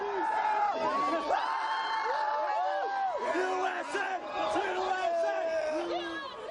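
Crowds of college-age Bostoners cheering and yelling in the streets, a dense mass of overlapping shouts and whoops that carries on throughout with chatter mixed in.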